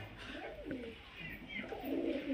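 Skittish pigeons of fancy breeds such as Giribaz, Madrasi, Kalshira, Teddy and Kamagar coo softly in a loft, low throaty calls repeating close by over a steady hum of background noise.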